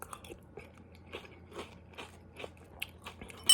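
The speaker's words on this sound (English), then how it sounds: "For a Frosted Flake, there actually still is a little bit of crunch in this." Frosted Flakes Pumpkin Spice cereal crunched close up in a quiet room, a series of soft, irregular bites and chewing crackles spread across a few seconds.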